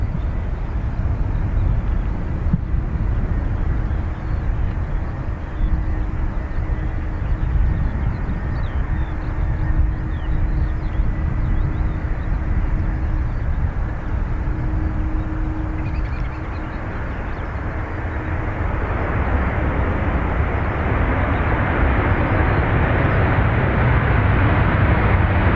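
An Air Canada airliner on approach to runway 28 left at Dublin Airport, a steady broadband jet roar that swells toward the end, loud and sustained with no talking.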